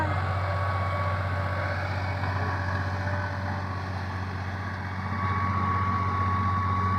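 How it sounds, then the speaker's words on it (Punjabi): A tractor preparing a farm field for wheat sowing runs with a steady, low engine drone that holds evenly throughout at moderate loudness, with no talk over it. "ਉਹ ਦੇਖੋ ਜੀ ਟਰੈਕਟਰ ਚੱਲਦਾ ਜੀ"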